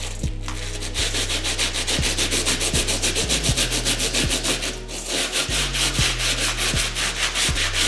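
A stiff brush scrubs rapidly and steadily against the herringbone-traction rubber sole of a Jordan 4 sneaker, making a harsh rhythmic rasping that keeps going with no talking.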